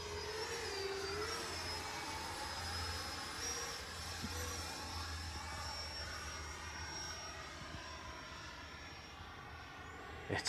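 An FMS Integral 80mm EDF RC jet flies past with power added, its ducted fan whining high and steady and fairly loud for the whole stretch.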